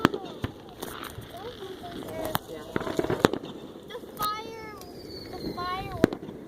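Fourth of July fireworks bursting at a distance, scattered sharp bangs and crackles with whistling rockets rising, while people talk and exclaim nearby.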